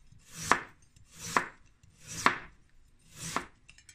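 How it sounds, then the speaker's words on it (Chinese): A knife cuts a peeled sweet potato into thin slices on a board, with four evenly spaced, crisp chops close by and no talking. "然后将红薯切成薄片"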